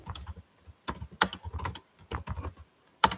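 Fingers type on a computer keyboard, entering a message into a live chat: irregular bursts of close, crisp key clicks with short pauses between them and no voices.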